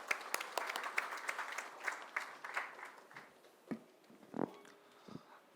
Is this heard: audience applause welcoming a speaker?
yes